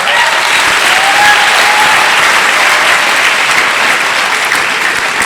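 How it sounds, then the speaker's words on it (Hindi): Loud, sustained applause from a large audience at a Hindi poetry recital (kavi sammelan), dense and even throughout, with a faint whistle cutting through. "एक बार आगे से पीछे तक तालियां बजा दीजिए।"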